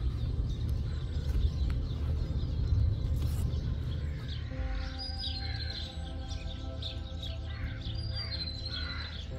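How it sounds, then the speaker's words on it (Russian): On a foggy morning by the water in Bolderāja, Riga, a small bird sings repeated high chirps while crows caw in the background, alarmed by a passing hawk-like bird, over a steady outdoor rumble. "Поет птичка, и там на фоне пролетел ястребиноподобный, поэтому вороны орут."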